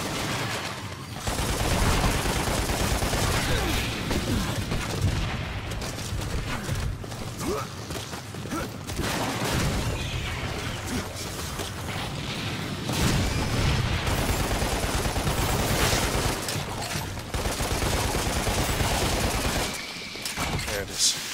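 Sustained gunfire in Lost Planet rattles almost without pause for about twenty seconds, loud and close, with mechanical clanks and booms mixed in and a voice talking at times.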